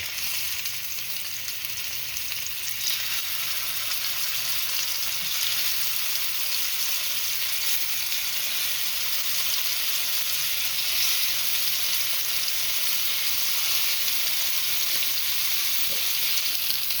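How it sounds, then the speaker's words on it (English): Food searing in a smoking hot oiled pan, a steady bright sizzle and crackle holding evenly for a long stretch, close and continuous with no talking. "The pan is smoking hot. That's all we need. We're just going to sear these like for like 1 minute on each side."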